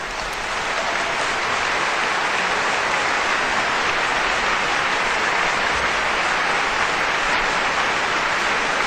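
Loud, sustained applause from a crowd, dense and continuous clapping throughout with no voices.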